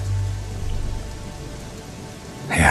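Heavy rain keeps falling during a stop at a tea-plantation roadside eatery, a steady close patter and hiss with a low rumble at the start and a sharper surge of drops at the end, with no talk.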